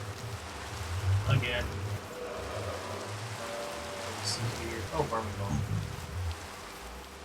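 Steady rain falls in Minecraft, a soft continuous patter under someone talking, with a few scattered clicks and thumps of in-game movement.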